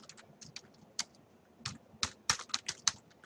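Keys clatter on a computer keyboard as C code is typed, irregular bursts of sharp clicks with short pauses between, close up and alone with no talking.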